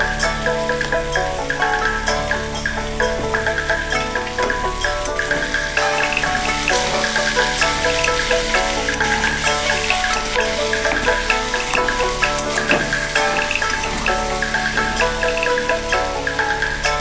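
Potato and cauliflower fry in a pan with turmeric and a little sugar, giving a steady, close, continuous sizzle with light stirring scrapes throughout and no talking.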